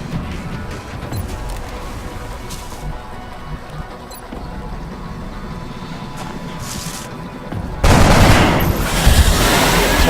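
Gunfire from the XCOM video game: softer rattling shots and clatter give way to a sudden, much louder burst of rapid fire in the last couple of seconds.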